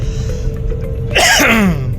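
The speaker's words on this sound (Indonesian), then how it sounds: "Batuk ya." A single sharp cough bursts out after a quiet stretch with a faint steady hum, then trails off.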